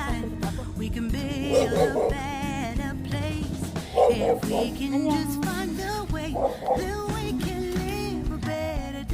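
A dog barks and yelps in short bursts over a continuous melodic background of music or singing.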